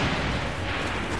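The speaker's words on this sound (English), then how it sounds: "the cannon barricade just tears troops apart" A cannon barricade fires in the video game Assassin's Creed: Revelations, a short, dense roaring blast of noise lasting about a second, loud and without a clear break.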